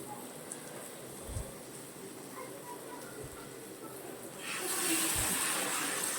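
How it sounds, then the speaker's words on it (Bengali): Hot water is poured into a pan of katla fish curry made with ginger and cumin paste; a quiet background hiss swells into a louder, steady rushing pour for the last couple of seconds. "এবার এর মধ্যে কিন্তু আমি দিয়ে দেবো পরিমাণ মতো গরম জল।"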